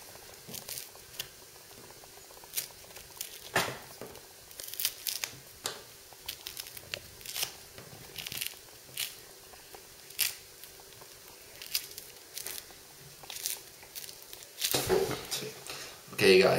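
An orange is peeled by hand, giving a string of soft, irregular crackling and tearing snaps close to the mic, with a voice talking at times between them.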